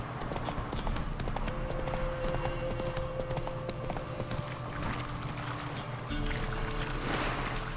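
Roach, a horse in the video game The Witcher 3, trots along with a clear, regular clip-clop of hooves, moderately close, over soft game ambience and a faint music drone.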